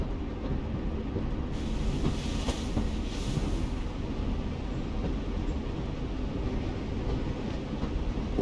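Steady low train rumble inside The Walking Dead: The Final Season video game, a continuous rolling drone of rail cars with faint rattling, no voices.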